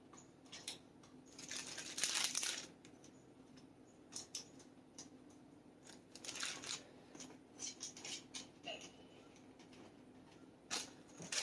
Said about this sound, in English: plastic baggie, and get all these nuts and washers in there